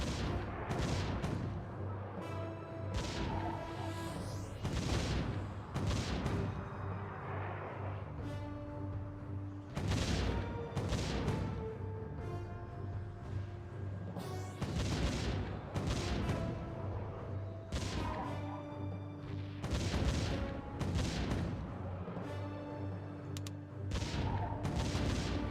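Cannon towers fire repeatedly in the tower-defense video game Defense Grid, a steady barrage of booming shots layered over a constant droning game soundtrack, with no voices.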